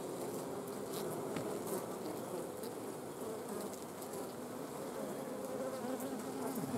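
Honeybees on hive frames make a dense, steady, close buzz that fills the whole stretch without a break.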